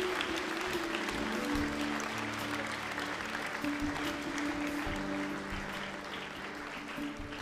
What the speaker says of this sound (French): J'aimerais qu'on puisse les applaudir.